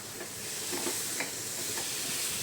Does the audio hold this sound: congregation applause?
no